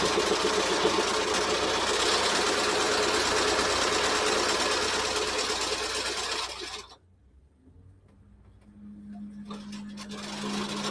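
A sewing machine stitching a fleece vest runs steadily and loudly for about seven seconds, then stops abruptly, leaving a quiet room with a faint hum.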